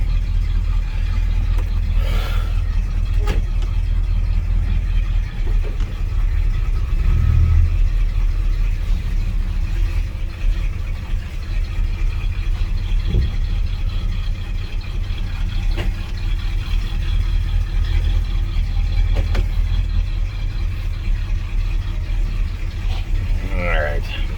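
An '84 Chevrolet Squarebody truck idles with an Edelbrock carburetor, a steady low engine rumble that stays loud and close throughout, with faint clicks and a brief rev in the background.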